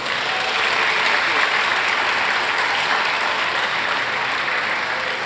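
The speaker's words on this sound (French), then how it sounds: "Un peu d'applaudissements pour Jed." Convention audience applauding at a celebrity panel during a summer manga and gaming fair, steady dense clapping throughout, loud and close.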